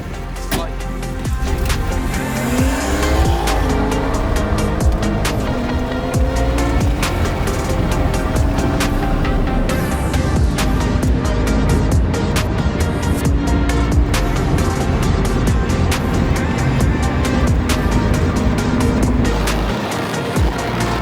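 At a street race event in Szczecin, a BMW F30 car engine revs hard and repeatedly nearby, its loud rising and falling roar mixed with crowd and other engine noise throughout.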